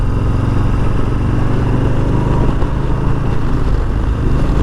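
A 2023 Harley-Davidson Low Rider S with a 117ci engine runs loud and steady, a dense low rumble held near the top of the revs with no break.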